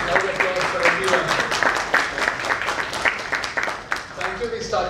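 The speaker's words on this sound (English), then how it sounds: "A round of applause for everyone." Audience applause closing a panel discussion in Jaipur, a dense crowd clapping steadily at close range for several seconds, with voices mixed into it.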